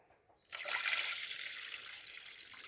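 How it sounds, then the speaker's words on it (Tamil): Water is poured steadily onto soaked varagu millet rice. After a brief quiet start, a close, continuous splashing pour runs to the end. "நம்ம 10 டம்ளர் தண்ணி ஊற்றிக்கணும்."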